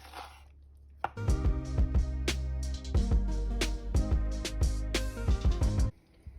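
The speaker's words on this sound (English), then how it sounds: "let's go ahead and slice them up into strips" A knife slices cleaned, skinned chilies into strips on a board for Mexican potato and cheese soup, giving a steady run of close, crisp cuts with heavy board thumps.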